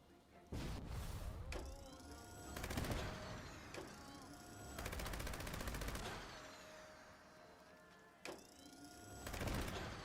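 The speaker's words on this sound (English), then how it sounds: "I can't just freaking shoot straight now." Automatic gunfire in Fallout 76 as a gun spins up and fires in several long sustained bursts, loud and close, separated by short pauses.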